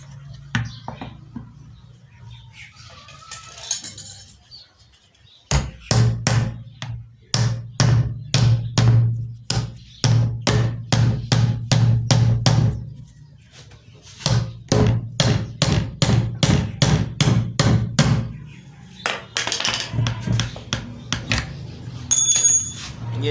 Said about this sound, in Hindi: उस सिरे से हम चोट लगाकर इसको बाहर निकालेंगे, क्योंकि ये नट दोनों साइडों पर निकल रहा है